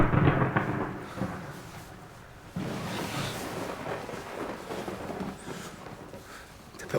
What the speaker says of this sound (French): T'as peur de l'orage aussi?